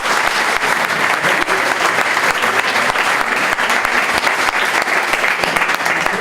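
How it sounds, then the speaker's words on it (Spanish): Audience applause for Sara, a novel's cover artist, at a book presentation: a steady, dense wash of many hands clapping that holds at full strength for the whole span. "Un aplauso para Sara."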